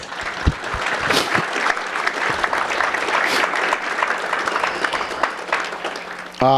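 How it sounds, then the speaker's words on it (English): An audience claps steadily for several seconds, a dense patter of hands with a few sharper claps standing out, ending as a voice begins. "give them a round of applause"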